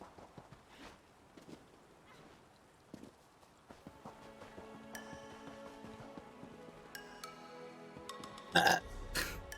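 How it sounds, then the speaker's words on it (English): A long, drawn-out human burp swells gradually with rising tonal, gurgling layers, peaking loud and harsh at the end after faint rustling near the start. "I burp a lot"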